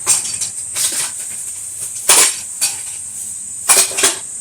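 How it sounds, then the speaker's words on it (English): A metal colander is handled among kitchen utensils, giving off several loud clattering clinks in irregular bursts, near and close-up, with no talking. "Got a colander over here."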